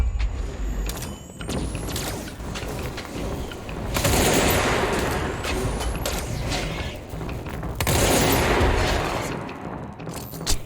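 Gunshots in the Control video game, part of The Foundation expansion, crack out in rapid loud volleys amid mechanical combat noise, swelling in two heavy bursts.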